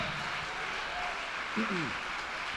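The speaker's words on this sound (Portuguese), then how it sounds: "Venham, venham, vamos aplaudir a Jesus, e as almas estão chegando." Congregation clapping during a church service, a steady wash of applause throughout with a voice briefly rising over it.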